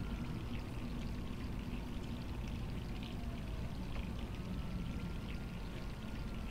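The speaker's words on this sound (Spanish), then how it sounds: "Grifo sigue abierto como en el sueño" Water running steadily from an open tap in the Resident Evil 3 Remake game, a constant, fairly faint hiss and splash that continues unchanged throughout with no voices.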